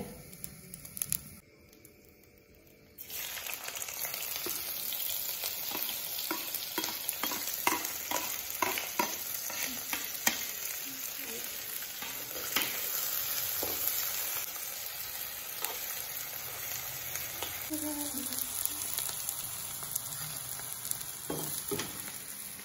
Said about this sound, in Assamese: তো পিয়াজ এতিয়া ভাজি লম পিয়াজ